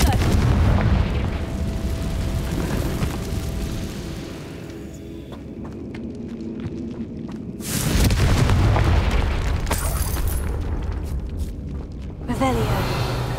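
The Confringo spell in Hogwarts Legacy sets off loud, booming blasts that roll into sustained rumbling, with several sharp bursts and crackles over a continuous game backdrop.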